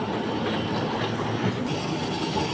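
An Alexandria Raml tram, route 1, rolls on its rails approaching Sidi Gaber station, a loud continuous rumble and rattle of wheels and carriage throughout with no talk.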